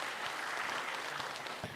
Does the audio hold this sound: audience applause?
yes